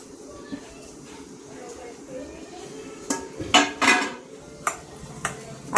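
Mashed sweet potato puran is pushed through a metal sieve, giving scattered metallic clinks and scrapes that cluster into a louder burst midway, with a voice talking in the background.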